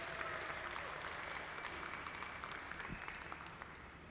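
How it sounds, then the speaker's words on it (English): Audience applause at a glass museum's visiting-artist talk, a steady wash of clapping from many hands heard at a distance, quiet and sustained throughout without speech. "So can we give the museum and the team a round of applause,"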